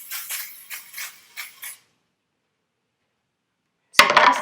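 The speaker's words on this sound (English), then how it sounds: "use your whoopie pie pan and spray it with cooking oil" Several short hissing bursts of cooking oil sprayed onto a whoopie pie pan in quick succession, then silence, then another close burst of spraying.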